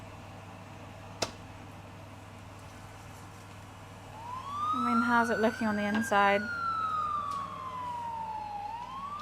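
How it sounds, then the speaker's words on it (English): A wailing emergency siren rises and falls in the distance for several seconds, starting partway through and continuing under a voice and a quiet indoor background. "I'm so used to hearing sirens."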